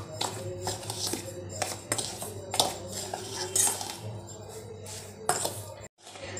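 Instant dhokla premix with salt and asafoetida is stirred in a bowl, a close run of spoon scrapes, clinks and taps against the sides with a brief pause near the end.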